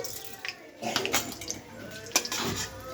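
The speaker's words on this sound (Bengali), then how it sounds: "একটু নাড়িয়ে চাড়িয়ে নিই।" Oil, a bay leaf and a little sugar are stirred in a cooking pan, giving scattered scrapes, clinks and soft sizzling in uneven bursts while a voice speaks over them.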